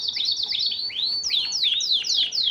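Canaries of various breeds, including Norwegian, chirp continuously nearby, bright rapid rising and falling tweets overlapping one another, calling from a cage.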